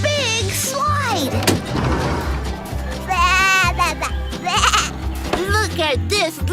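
A baby goat bleats several times in high, wavering cries over a busy, loud backdrop of cartoon-style playground sounds and low booming effects.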